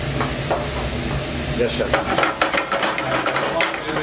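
Mushrooms and bacon sizzle loudly in a frying pan with a constant hiss, punctuated by stirring and scraping, while a brief exchange of speech passes over it.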